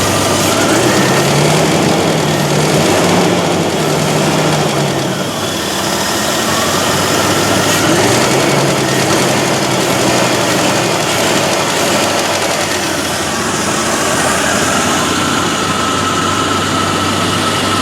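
A 1998 Bentley Brooklands R engine idles steadily with its vacuum line disconnected, a loud, continuous, even hum with a faint wavering tone and no talking.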